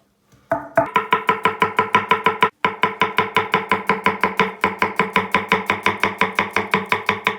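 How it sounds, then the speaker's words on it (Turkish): Rapid, steady knife chopping of onions on a board, dozens of crisp evenly spaced strikes with a brief pause partway through, close and loud. "Soğanlarımızı da çok ince doğrayacağız."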